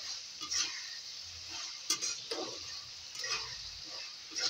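A tomato mixture fries in oil, giving a steady close sizzling hiss with occasional soft clinks and stirring scrapes throughout.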